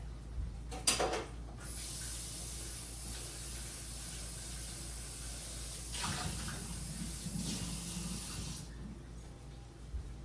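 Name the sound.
rinsing a bowl under running water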